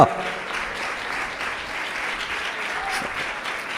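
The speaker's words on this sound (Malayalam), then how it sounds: "ശക്തിയോടൊന്ന് കൈയടിച്ചേ" A congregation at a fasting prayer session claps hard together, a dense sustained burst of applause with a voice calling out over it.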